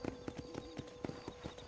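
Horse hooves clip-clop in a steady, even rhythm in the Red Dead Redemption video game, about nine quiet hoof falls in under two seconds with nothing else over them.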